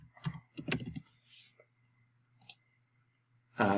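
Information being typed on a computer keyboard, a few short bursts of close, quiet key clicks separated by near silence, with a louder click at the end.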